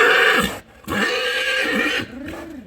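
An Ardennes stallion neighs loudly and close by while being loaded into a horse trailer, two long whinnies separated by a brief pause, with a shorter call starting at the end.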